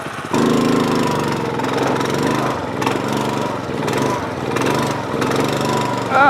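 A riding lawn mower nicknamed the Lawn Destroyer runs close by, its engine a loud steady chugging drone with slight rhythmic throbbing, holding even throughout.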